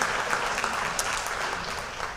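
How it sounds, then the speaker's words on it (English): Banquet audience applauding a varsity football coaching staff and players at a fall athletic awards night, dense steady clapping from a full room that carries on without a break. "Let's give one more round of applause to our varsity football coaching staff and all of our players as well"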